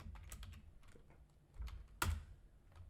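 Keys clatter on a computer keyboard while Python code is typed, quick uneven taps with a brief burst of louder strokes near the end, close and quiet with no talking.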